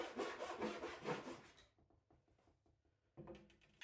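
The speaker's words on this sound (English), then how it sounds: "Time to cut out the second shelf." A saw cuts through a live-edge cedar shelf board on a workbench, with rough rasping strokes up close, a short quieter pause of lighter scraping, then the cutting resumes.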